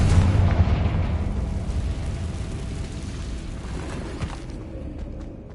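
A Confringo spell explodes in the video game Hogwarts Legacy, a deep booming blast that rumbles loudly at first and then decays slowly with faint debris crackles.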